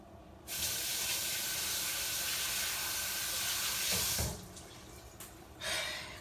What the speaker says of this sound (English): I want to wash my hands right quick.